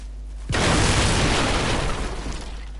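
In the Bloodborne video game, a cannon fires one loud, sudden blast, followed by a heavy, sustained rumble that slowly fades.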